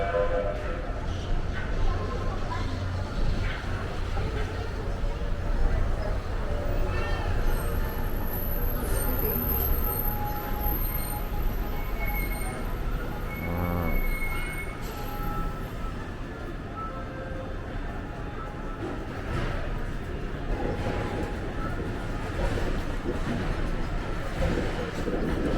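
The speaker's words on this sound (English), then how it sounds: "Here comes the monorail." A Disney monorail pulls into a busy station near Magic Kingdom with a continuous rumbling, rolling drone and squealing high tones, while a crowd chatters throughout.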